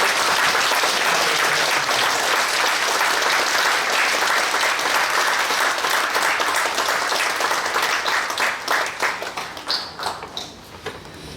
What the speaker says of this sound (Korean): 함께 박수로